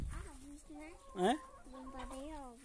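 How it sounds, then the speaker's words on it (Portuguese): Farmyard chickens clucking at a farm, several short rising cackles and clucks close by over soft background noise, with a louder squawk in the middle and people talking faintly. "Tem muita galinha, Larissa."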